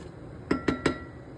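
A spoon clinks against a pot three times in quick succession while spice is stirred in for a green bean curry, each knock sharp and close over quiet background.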